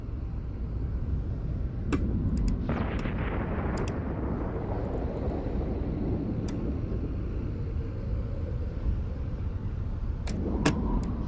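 A corvette fitted with a civilian-class weapon fires in a space video game: sharp crackling bursts over a steady engine rumble, with a denser barrage around the two-to-four-second mark and another flurry near the end.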